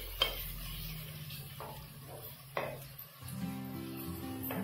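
Ingredients for mint rice fry gently in a pan with a faint sizzle, broken by a few clinks and scrapes of a spoon stirring against the pan, quiet and close.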